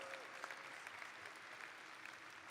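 Steady applause from a large audience at a university commencement ceremony, dense clapping filling the whole stretch at a moderate, even level.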